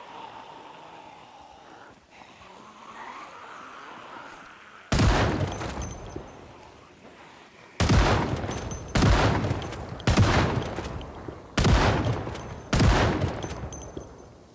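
Six loud, evenly spaced shotgun blasts in a video game, each sharp burst trailing off quickly, following a quieter stretch of low ambient rumble.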